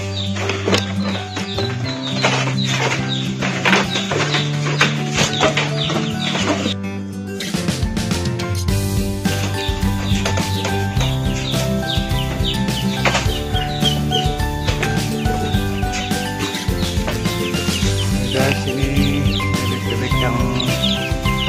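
A dense flock of young Peking meat ducks fills a farm pen with continuous loud, close chattering calls and peeps, a steady overlapping din that never lets up.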